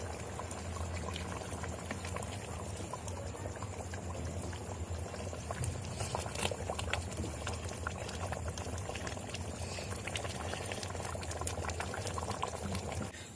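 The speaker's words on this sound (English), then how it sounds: "Let's see how our fish curry is cooking." Tamarind fish curry bubbling steadily in an earthen pot, a continuous soft simmer with small popping bubbles, fairly faint and unbroken throughout.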